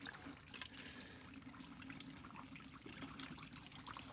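Water pouring and splashing steadily as a minnow bucket is emptied outdoors on a lake, a continuous close trickle and gush with no talking.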